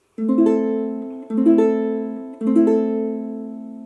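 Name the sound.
A minor chord strummed on ukulele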